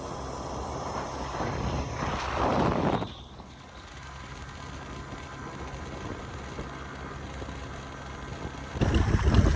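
Ferry crossing to Koh Chang, Thailand: a steady low rumble of engine and hull on the water with wind buffeting the microphone, louder gusts at the start and end, and no talking.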